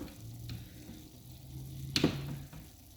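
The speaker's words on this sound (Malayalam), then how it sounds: "ഇനി നമുക്ക് തുറന്ന് ഒന്ന് ഇളക്കി" Chicken liver fry is stirred in a pan with a soft, low sizzle. A single sharp spatula scrape stands out partway through, and there is no talk.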